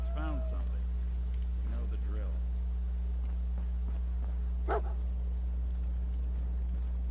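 Dogmeat, the dog companion in Fallout 4, gives a few brief barks and whimpers over a constant low mechanical hum, with a voice talking in the game.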